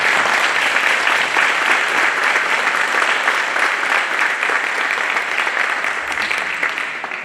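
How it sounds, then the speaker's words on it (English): Sustained, dense audience applause after a devotional lecture on the Hanuman Chalisa, many hands clapping steadily and loudly throughout, easing slightly toward the end. "giving you a big round of applause"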